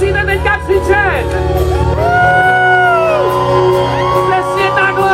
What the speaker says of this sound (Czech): A vy křičíte, musíte teďka křičet!